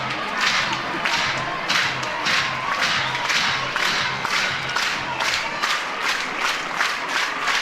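Fans at a college softball game between Oklahoma and Tennessee cheer and clap in a steady rhythmic pulse, a loud continuous crowd roar throughout.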